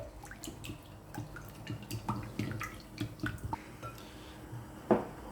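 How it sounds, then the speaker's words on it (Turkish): Two eggs are whisked in a bowl for crepe batter, making quiet, irregular clicks and light taps of the whisk against the bowl, close up, ending with a slightly louder knock. "yumurtayı çırparak başlıyorum"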